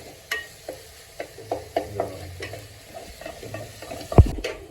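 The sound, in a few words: onions being sautéed and stirred in pan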